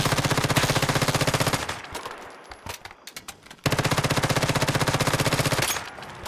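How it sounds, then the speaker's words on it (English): MP7 submachine gun firing steel ammo in the game Once Human, two long rapid full-auto bursts of evenly spaced shots separated by a short pause with scattered clicks and impacts, loud and close. "this is steel ammo with MP7"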